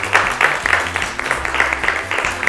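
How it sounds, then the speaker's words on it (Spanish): Audience applause closing a school-hosted youth TV program taped in Mendoza, Argentina, a steady wash of mixed clapping that holds throughout at moderate level, with low background tones underneath. "un aplauso para ustedes por haber participado"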